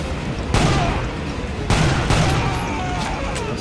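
Heavy gunfire in the shooter game Soldier of Fortune: Platinum Edition, three loud close shots with dense reverberant tails ringing out in quick succession.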